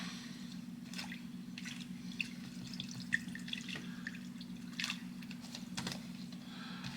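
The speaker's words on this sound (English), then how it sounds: "Now I go into my paint thinner here." A paint brush swishes and dabs in a container of paint thinner, soft wet clicks and liquid splashes close by, scattered irregularly over a steady low hum, with no talking.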